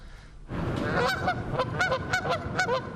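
Canada geese honk repeatedly during nesting season, a rapid series of loud, close calls rising over a steady outdoor background.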